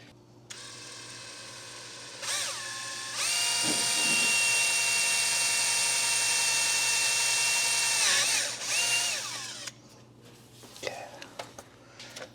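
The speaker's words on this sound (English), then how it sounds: "I'm not too worried about just drilling straight through it either" A power drill whines loudly and steadily for several seconds, drilling through metal on a 1967 Pontiac GTO, its pitch dipping under load, with brief quiet talk and clatter before and after.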